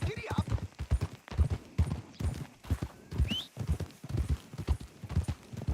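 Horse hooves clip-clopping at a steady trot in the Red Dead Redemption 2 video game, a regular rhythmic beat running throughout beneath continuous talking, with a brief whinny partway through.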